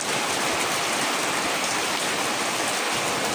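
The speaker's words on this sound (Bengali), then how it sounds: "শুধু বৃষ্টি হচ্ছে।" Steady rain falls on a hot day, a dense, even hiss that runs unbroken and fairly loud from start to finish with no voices over it.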